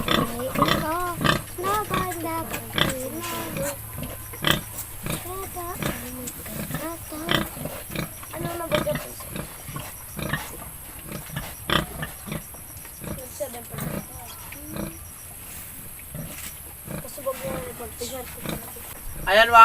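Pig grunts and snorts repeat close by in short bursts, with a person talking over them.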